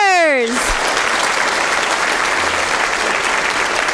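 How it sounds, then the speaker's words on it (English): Audience applause at an employee recognition event, a loud, dense burst of clapping that follows a short spoken voice and keeps going steadily to the end. "Let's give another round of applause to Valerie"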